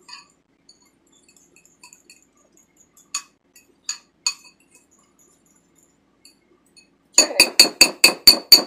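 A spoon clinks against a glass mug while flax seed mug bread batter is stirred, starting with a few sparse taps and ending in a quick run of sharp, bright clinks close by.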